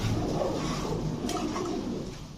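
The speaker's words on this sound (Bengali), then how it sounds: "ফুল ফ্রেশ একটা মাদি কবুতর" Pigeons coo steadily in a pigeon shop, a soft continuous murmur of several birds close by with a brief sharper noise partway through.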